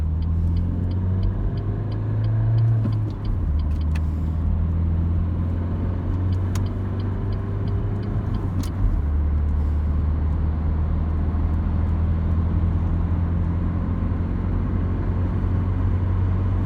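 Renault Clio 1.5 station wagon accelerating in traffic without full throttle, its engine a constant low interior hum that shifts pitch at a couple of gear changes, with no speech.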